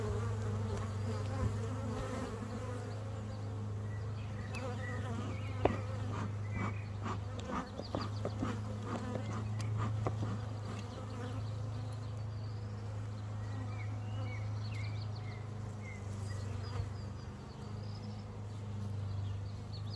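Honey bees buzz steadily around an open hive during a spring inspection, a dense continuous hum close by with scattered clicks and handling noises, no voices.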